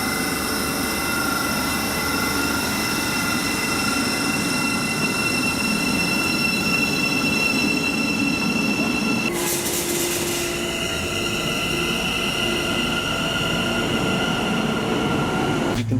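A UK electric train runs steadily with a whining traction motor at a fixed carrier frequency, rumbling wheels and squealing over rails. Midway comes a brief burst of hiss, then a shifted, sustained motor tone.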